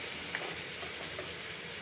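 Beef marinated in spices sizzles steadily in a hot pan, a close, even hiss of frying with a few faint pops and no talking.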